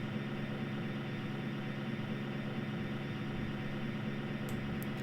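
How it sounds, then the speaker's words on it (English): A steady, continuous looped aircraft engine drone holds at one unchanging pitch, loud and even throughout with no rise or fall. "we want the sound to play as long as the engine is running"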